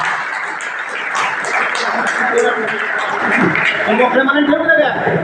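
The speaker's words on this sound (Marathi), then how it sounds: "एका जोरदार टाळ्या पांडुरंगासाठी झाल्या पाहिजे।" An audience at a prize-giving event breaks into loud, sustained applause, dense clapping over a few seconds with a voice briefly audible beneath it.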